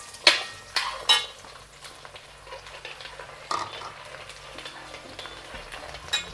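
Split garlic cloves going into a pan over low heat for a gooseberry pickle, giving a soft frying sizzle under several sharp clinks and scrapes of a spoon against the pan, all close.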